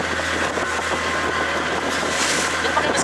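Diesel fishing boat engine running at speed on the sea near Pulau Damar in the Kepulauan Seribu, a steady loud drone with wind and water rush over it, no talking.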